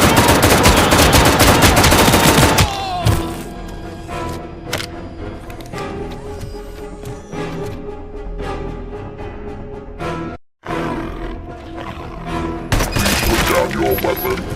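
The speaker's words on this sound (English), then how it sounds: "I am under attack from Ed 209." ED-209 robot machine gun fire in the video game Robocop Rogue City: dense, loud, continuous automatic gunfire with cracks and impacts, heaviest at the start, with a brief drop in the middle before the firing resumes.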